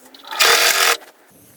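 A sewing machine stitches the side seam of an umbrella frock dress in one short, close burst of rapid whirring, then stops.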